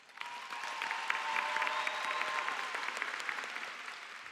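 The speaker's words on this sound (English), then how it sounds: "please give yourself a round of applause" Sustained applause from a large commencement audience at a high school graduation ceremony, dense and steady clapping held at even strength for several seconds with a faint tonal hum underneath.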